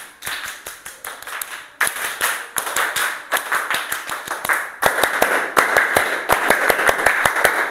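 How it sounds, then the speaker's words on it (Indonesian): A classroom of students clapping hands together in bursts of rapid, sharp claps, loud and close, pausing briefly between rounds, with no talking. "Tepuk tangan."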